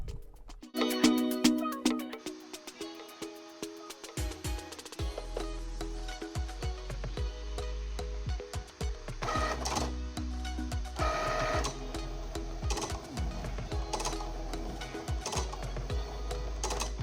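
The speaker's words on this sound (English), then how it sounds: "press the play button, and that is going to actually tell the smart cutting machine to start the cutting" A Cricut smart cutting machine slices vinyl with a steady mechanical whir and rapid motor ticking, carriage movements shifting in pitch and rhythm over a continuous drone, with no talk.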